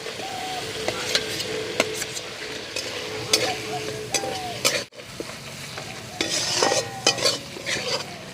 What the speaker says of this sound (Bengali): আমি অল্প আছে ঢাকা দিয়ে দিয়ে মশলা আর আলুটা ভালো করে কষিয়ে নিয়েছি